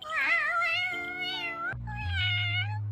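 A person imitates a cat with a run of high, wavering vocal meows, mimicking a cat character, loud and close with no other sound.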